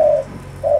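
A spotted dove decoy bird cooing nearby, two soft low hooting notes separated by a brief gap, clear and alone.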